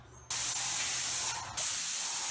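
A paint sprayer hisses loudly while spraying oil-based stain blocking primer onto a cedar ceiling, in two long continuous bursts with a brief drop in pressure between them.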